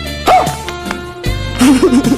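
Dogs bark and yip several times in quick, irregular bursts, loud and close, with a short whimpering note between barks.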